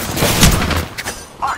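Gunfire in the Apex Legends video game: a short burst of shots up close, with broadband bangs that fade quickly, and a game voice briefly audible near the end.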